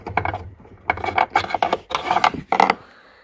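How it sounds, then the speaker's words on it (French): Ratcheting plastic clicks in short rhythmic bursts as a large plastic bolt is unscrewed on an Audi A4 B8 tail-light fitting, close and fairly loud, with brief pauses between turns. "Vous avez ce gros boulon en plastique à dévisser."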